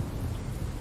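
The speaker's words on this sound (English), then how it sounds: "Listen to that thunder." A thunderstorm rolls on in the Bus Simulator game, with dense, steady low rumble and rain-like noise filling the short stretch without breaks.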